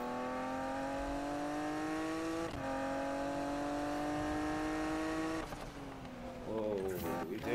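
Car engines rev hard in a Need for Speed 2015 drag race between a Lamborghini Diablo SV and a Liberty Walk Murcielago, climbing in pitch through gear shifts and then surging again near the end, with a voice talking over it.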